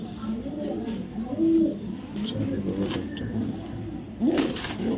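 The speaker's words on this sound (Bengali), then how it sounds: "রেড চেকার একটা মাদি কবুতর, আগুন চোখের ক্লাবের কবুতর" A red checker female club racing pigeon coos nearby in two short, soft, throaty bursts over a low background hum with faint traffic.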